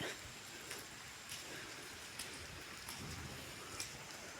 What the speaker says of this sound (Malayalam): മഴയുണ്ട്, അതാണ് നമുക്ക് ഏറ്റവും വലിയ പ്രശ്നം